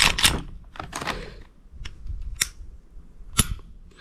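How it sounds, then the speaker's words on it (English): Glock 43X pistol trigger reset, sharp metallic clicks close up, a cluster of quick snaps at first then a few isolated crisp clicks spaced apart. "The reset on this gun is actually pretty good. So you get that click and it's set to go."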